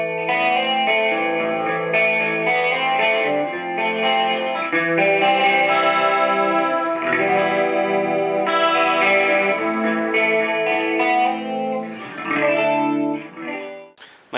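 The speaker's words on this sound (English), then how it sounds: "the Detune feature in the PS6 sounds very similar to the PS5" Guitar through a Boss PS-6 Harmonist on its detune setting gives a thick, shimmering chorus-like doubling over sustained chords and melodic lines, steady and fairly loud throughout with no voices.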